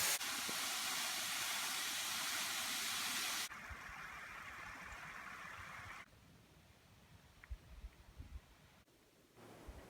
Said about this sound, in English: I'm at the bottom of the waterfall, Calf Creek Falls.